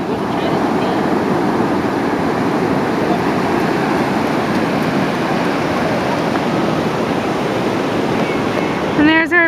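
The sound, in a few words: ocean waves on the beach at Roads End, Lincoln City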